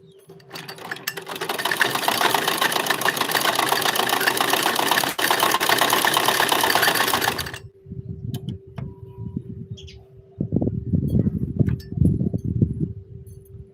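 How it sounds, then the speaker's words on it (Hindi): A sewing machine stitches clothes for Eid, whirring loud and steady for about seven seconds before it stops; voices then talk over a quiet room hum. "मैं सिल रही हूँ कपड़े सिल रही हूँ।"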